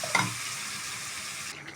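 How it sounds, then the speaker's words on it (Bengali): Meat fries in a pot for a dark bhuna, giving a steady close sizzle with one brief stirring knock near the start; no talk. "এখন ভাজতে থাকবো, ভাজতে ভাজতে একদম কালো হয়ে যাবে"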